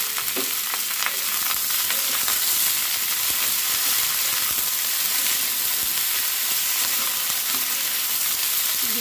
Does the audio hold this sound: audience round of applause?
no